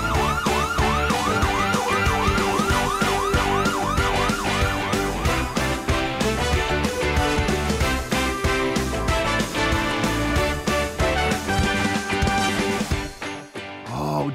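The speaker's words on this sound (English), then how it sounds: "an ambulance. Wow. Listen to the sirens." A wailing ambulance siren cycles up and down rapidly over busy, layered background sound, loud and continuous throughout.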